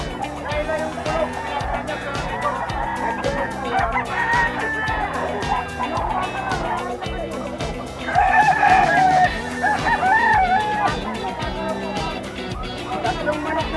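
Chickens cluck and a rooster crows amid a busy outdoor market where people haggle; the birds are close and fairly loud, with a stronger burst of crowing near the end, under and between steady talk.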